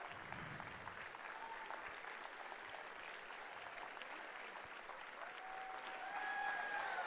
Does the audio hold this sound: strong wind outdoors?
no